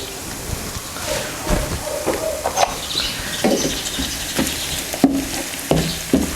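Onions frying with green chillies and ginger in a pan give an uneven crackling sizzle with scattered clicks and stirring knocks, moderately loud and close.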